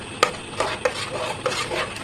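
Mango pulp being stirred in a kadai over a gas flame for homemade amsatta, with a few distinct scraping knocks of the spatula against the pan spaced across a soft background hiss.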